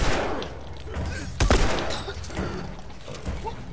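Gunfire in the combat of The Last of Us Remastered, with bursts of shots over a dense, noisy game soundscape and one prominent louder blast around the middle.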